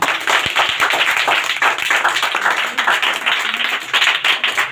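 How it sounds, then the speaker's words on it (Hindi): An audience breaks into loud, vigorous clapping in honor of a guest, a dense burst of many hands sustained for several seconds after a few sharp initial claps. "सर के लिए जोरदार तालियां।"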